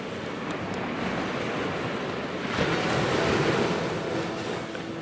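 Surf washing steadily onto a beach on the Olympic Peninsula, a continuous rushing roar that swells louder midway, with wind buffeting the microphone and no voices.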